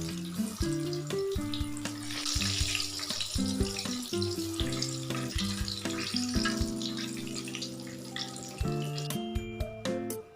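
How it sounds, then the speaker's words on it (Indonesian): Dense, crackling sizzle of flour-battered catfish frying in hot oil runs steadily throughout, with music playing underneath. "Sekarang saya akan menggoreng lele yang kedua."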